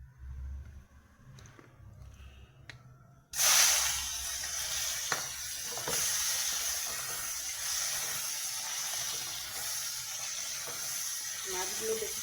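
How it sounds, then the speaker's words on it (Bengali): Fish drop into hot oil in a wok with a sudden loud burst of sizzling that settles into a steady close hiss and crackle, a voice speaking before and over it. "এখন আমি মাছগুলো আগে ভেজে নেব।"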